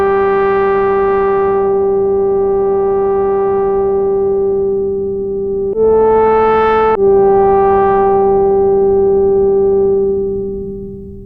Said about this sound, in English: Here's a brassy lead sound with a bit of noise, soft attack and release and a bit of LFO-controlled pitch, amplitude and filter modulation.